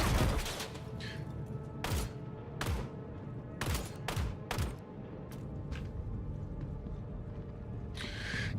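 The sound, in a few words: grenade explosions and gunfire in Star Citizen video game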